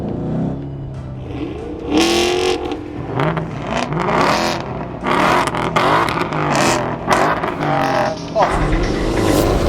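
A 2019 Ford Mustang GT PP2 or Chevrolet Camaro SS 1LE V8 launches hard in a drag race on a track, engine revving and climbing through gears with loud shifts, while someone talks excitedly over it.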